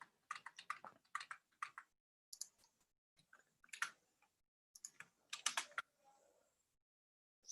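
Bursts of typing on a computer keyboard, quick clusters of close, crisp key clicks separated by short pauses, quiet overall with no talking.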